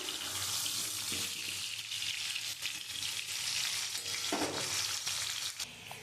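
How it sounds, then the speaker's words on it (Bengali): Potatoes for Kashmiri aloo dum fry in oil, producing a steady, nearby bubbling sizzle that stays even throughout, with no one talking. "আলুর দমটা একটু ভাজা ভাজা করে নেব"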